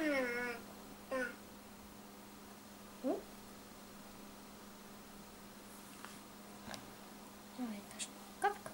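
A cat meows several times in short, high, rising calls, fairly close, separated by quiet pauses with soft background hiss.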